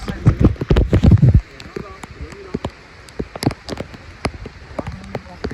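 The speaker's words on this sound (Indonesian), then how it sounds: "Hujan deras." Heavy rain falls on a walk toward farm fields, heard as scattered drops and patter on nearby surfaces after a burst of louder close handling noise at the start.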